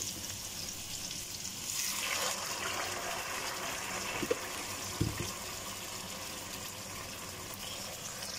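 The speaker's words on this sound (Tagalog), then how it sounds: "Lagyan natin ng konting tubig." Water hisses and sizzles as it is poured into a hot pan with squash and prawns, a steady frying crackle with a few soft knocks of a utensil, no voices.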